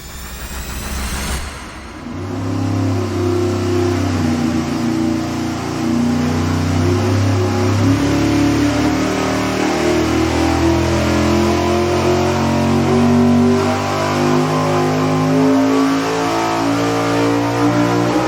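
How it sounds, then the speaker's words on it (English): A V8 engine on a dyno makes a baseline pull without nitrous, cranking and catching at the start, then a loud sustained roar that climbs steadily in pitch as revs build across the run. "let's fire it up and just baseline the thing on motor"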